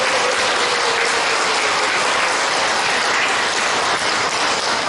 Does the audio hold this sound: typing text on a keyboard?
no